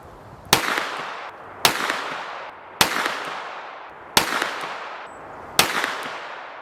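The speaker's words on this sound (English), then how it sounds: "firing 5 rounds of 124 grain gold dot" Five pistol shots of 124 grain Gold Dot ammunition are fired from a bench-supported TriArc TRI-11, each a loud, sharp crack with a ringing decay, spaced roughly a second apart at close range.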